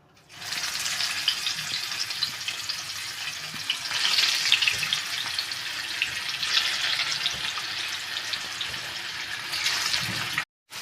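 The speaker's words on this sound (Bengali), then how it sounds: "তো 6 পিস করে দিয়ে ভাজছি" Cauliflower chop pieces fry in a hot pan of refined oil, giving a loud, steady sizzling hiss that swells slightly midway and cuts off abruptly near the end.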